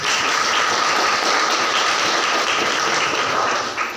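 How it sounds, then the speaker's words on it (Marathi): Steady, dense applause from an audience at a devotional gathering, holding at an even loudness throughout with no voices over it and tapering slightly at the very end. "टाळ्या वाजतील का प्रभूसाठी?"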